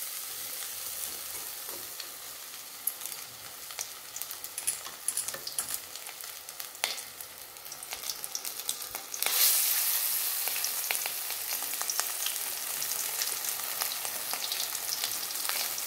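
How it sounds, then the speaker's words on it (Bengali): Lemon-marinated fish pieces coated in batter sizzle and crackle in hot oil in a kadai, two pieces at a time, a steady close frying hiss that swells louder toward the end, with occasional stirring clicks and no voices. "আমি দু পিস করে মাছগুলো ভেজে নিই।"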